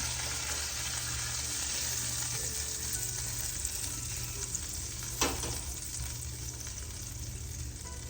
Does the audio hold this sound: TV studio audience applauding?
no